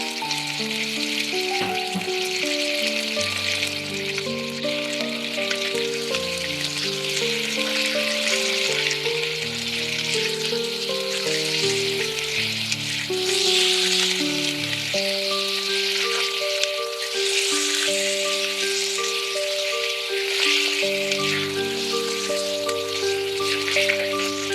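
Beef sears in shimmering oil in a very hot wok for Cantonese beef chow fun, a loud, constant sizzle and crackle with a steady hum beneath, close and uninterrupted.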